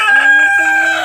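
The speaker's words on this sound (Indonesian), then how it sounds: "maaf ada suara ayam, aku punya ayam. Itu ayamnya." A pet chicken crows close by, a loud, drawn-out call that fills the short moment on its own with no talk over it.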